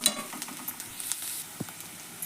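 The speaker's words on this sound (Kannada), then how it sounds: "ಇದ್ರಾಗ ಎಣ್ಣೆಗ ಫ್ರೈ ಆಗಲಿ ರೀ ಇದು" Garlic, coconut and coriander frying in hot oil: a soft, continuous sizzle with light crackles and occasional stirring taps, heard close and without any talk.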